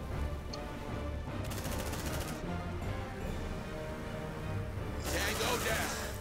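Automatic gunfire in Aliens: Dark Descent rattles in two quick bursts, one early and one at the end, fairly quiet and mixed in with game ambience and voices.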